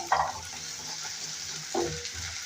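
Ginger-garlic paste sizzles in hot oil in a frying pan while a spoon stirs it for a Tamil kovakkai fry. There is a steady close sizzle with two brief stirring scrapes.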